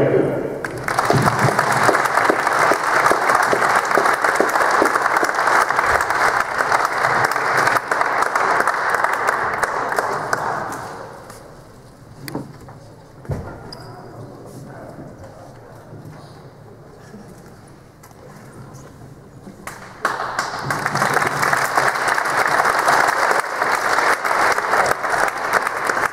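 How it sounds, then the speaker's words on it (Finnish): Football crowd applauding a player tribute at a stadium, loud sustained clapping that fades to a quieter lull with scattered claps and outdoor noise midway, then surges back to full strength. "Arvoisa yleisö, annetaan isot aplodit Jari Heikkilä."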